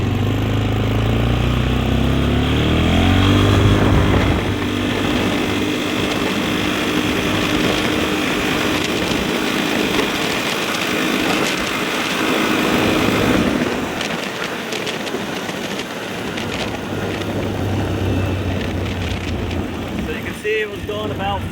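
A 2013 Polaris Sportsman 400 ATV ridden in high gear, its engine a loud, continuous close drone with shifting pitch as it speeds along, wind buffeting throughout and a voice talking over it at times.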